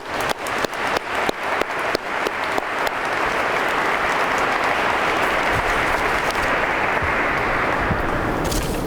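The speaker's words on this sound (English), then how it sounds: "Give them a nice round of applause." Audience applause at a police academy graduation ceremony: a few sharp individual claps open, then a full crowd joins in a loud, steady wash of clapping that holds to the end.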